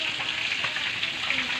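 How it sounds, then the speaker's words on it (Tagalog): Milkfish (bangus) fries at home in a pan, giving a continuous close hiss and crackle of bubbling oil with no talk. "Kumukulo-kulo guys."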